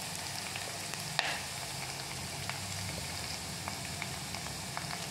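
Garlic and cumin frying in oil for a kadhi tempering, a soft even sizzle and crackle with a few light pops and a spoon tap early on.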